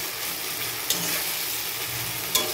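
Taro leaves fry in a wok with a continuous dense sizzle, and two sharp spatula scrapes break through the crackle; no voices are heard.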